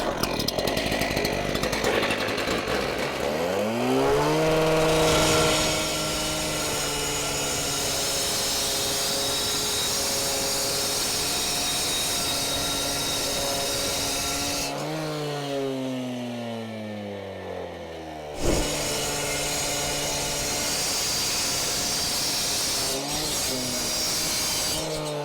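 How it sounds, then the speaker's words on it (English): A saw fitted with a 14-inch CAT diamond rescue blade cuts through steel, a loud, steady high-pitched whine that dips and recovers under load, briefly winds down and cuts out, then surges back and keeps cutting. "Let's cut through that steel again and see if it cuts the same speed after the concrete a couple times and the PVC."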